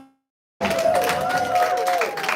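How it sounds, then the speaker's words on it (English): Audience applause at the USCHA 2023 conference in Dallas, Texas, starting abruptly after a brief silence and holding steady as dense crowd clapping with some cheering, with a voice carrying over it. "Give them a round of applause"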